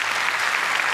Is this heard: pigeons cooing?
no